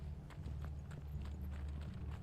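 Horses gallop in the Final Fantasy 16 video game, a quick, steady run of hoof clip-clops over a low rumbling backdrop of game sound, with no speech.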